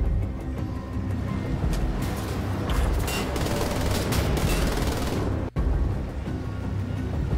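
Dense bursts of gunfire and explosions from the video game Wolfenstein: The Old Blood form a continuous loud barrage with rapid cracks. One sharp blast stands out near the end.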